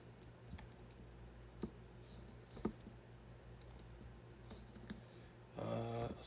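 Faint, irregular keystrokes tap on a computer keyboard in a quiet room, with scattered clicks and a brief tonal chime near the end.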